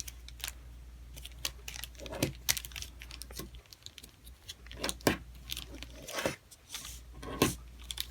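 Origami paper being creased and unfolded while folding a Venus flytrap model: quiet, close crinkles and soft taps in an irregular rhythm, with no talk.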